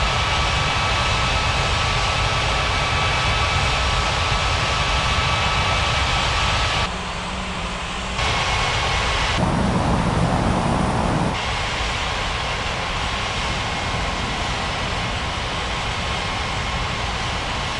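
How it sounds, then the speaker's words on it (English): Steady, loud roar of an airliner's jet engines during a takeoff run on runway 23 in an air traffic control game, a dense unbroken rumble that shifts slightly partway through. "Lufthansa 3971 cleared for takeoff runway 23"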